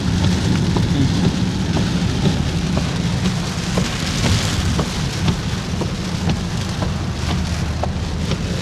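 Heavy rain falls steadily near the Cumilla bus stand, a dense, unbroken patter on surfaces with scattered sharper drops, close and loud with no voices.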